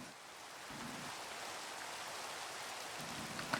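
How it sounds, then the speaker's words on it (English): Steady rainfall in Minecraft, a soft, even wash of drops that stays constant and fairly faint throughout. "I just love that it had to rain right now"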